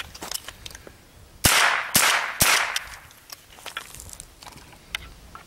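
A rifle fitted with a .22 conversion kit fires unsuppressed: three sharp, loud cracks come in quick succession, each with a brief echoing decay, amid scattered light clicks and shuffling.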